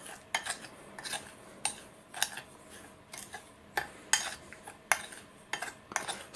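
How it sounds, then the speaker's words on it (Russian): A spoon clinks and scrapes against a bowl while dry fishing bait powder is stirred with sea salt, giving sharp metallic taps in an irregular rhythm at close range. "Итак, все замешивается."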